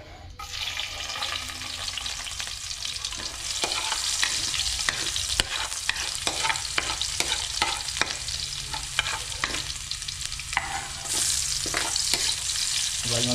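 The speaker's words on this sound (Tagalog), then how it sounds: "So bali gigisa muna natin siya." Vegetables with garlic and onion sautéing in a pan, a continuous sizzle and fry with repeated scraping stirs from a utensil, close and steady, with no voices.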